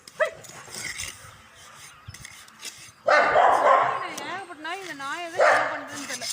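A household dog barks and yelps in a rapid run of sharp, close barks with whining pitch rises, following a stretch of people talking outdoors near a borewell chamber under construction.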